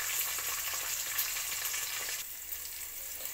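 Green chillies and onion frying in a hot pan, a steady close sizzle with faint crackles that eases slightly toward the end, no voices.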